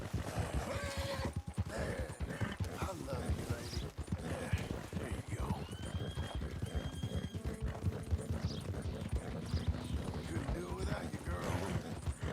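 Horses gallop in a Red Dead Redemption race between a White Arabian and a Reverse Dapple Roan Nokota, giving steady, fast clip-clop hoofbeats with occasional whinnies, layered under game music and ambience throughout.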